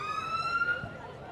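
Police and fire vehicle sirens sound at a town community event outside a police station, a wavering tonal wail heard over crowd chatter and nearby talk, fairly distant and brief.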